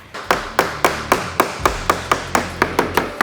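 Hammer striking a caravan panel during a DIY renovation, about thirteen sharp, regular blows close by, each with a short ringing decay, no speech.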